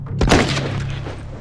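A gunshot goes off in The Last of Us, a sharp, loud blast with a thudding tail that decays over about a second under a low, steady background hum.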